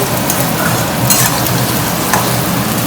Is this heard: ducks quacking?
no